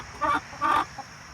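A hen inside a coop fitted with nesting boxes gives two drawn-out clucking calls close by, then a short faint cluck, over a quiet background hum.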